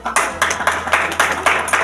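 Audience claps for first-rank students at a school result announcement, a short burst of loud, fairly rhythmic clapping from a nearby crowd.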